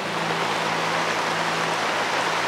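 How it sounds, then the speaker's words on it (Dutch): Rain falling onto a winter swimming pool cover, a close, even patter of drops hissing steadily across the surface with a faint low hum underneath and no speech. "want het is toevallig gaan regenen"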